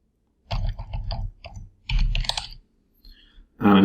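Computer keyboard typing in two quick clusters of keystrokes separated by a short pause, close and clear, followed by a final click.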